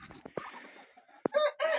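German-breed chickens in a farmyard coop give short clucks and sharp calls, one drawn-out crow-like cry rising near the end, moderately close but quiet overall.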